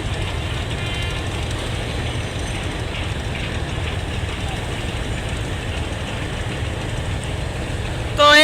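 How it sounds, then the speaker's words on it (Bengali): Two river launches leaving Sadarghat together, engines and propellers running, give a steady, loud low rumble and churn that holds throughout, with a brief louder burst at the very end. "দুই এক লঞ্চের প্রোপেলার চালানো হচ্ছে এই যে একসাথে দুইটি লঞ্চ কিন্তু ব্যাগারে যাচ্ছে"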